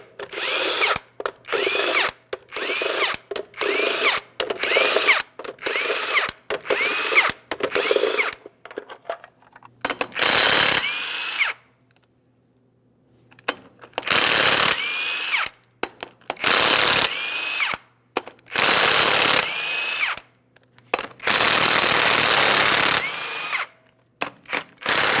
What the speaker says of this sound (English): we'll remove all 8 of our 22mm lug nuts as well so we can remove the wheel